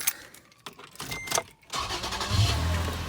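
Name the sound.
car engine starting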